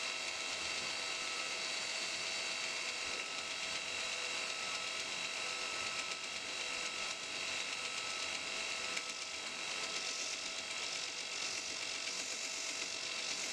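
A belt grinder running a 240 grit belt with a surface grinder attachment gives a steady, unbroken abrasive whir and hiss at constant level throughout, with no voices.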